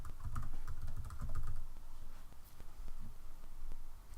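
Typing on a computer keyboard while setting up a WordPress blog, with steady runs of clicky keystrokes in bursts, fairly close and alone with no talk.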